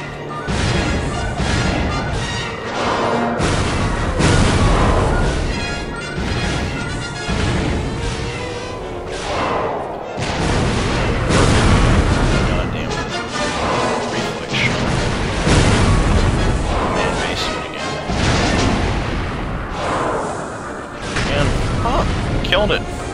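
Rocket blasts slam into a boss in the Star Wars Jedi Academy game, a dense run of loud booming explosions and crashing impacts that repeat across the stretch, with heavy low rumble and only brief lulls between hits.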